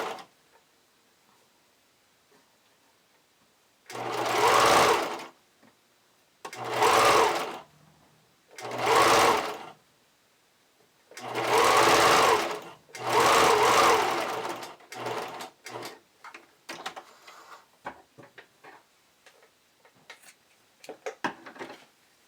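A sewing machine stitching elastic along the leg line of a garment runs in five short bursts of whirring, close and fairly loud, followed by softer handling clicks and rustles with no talk.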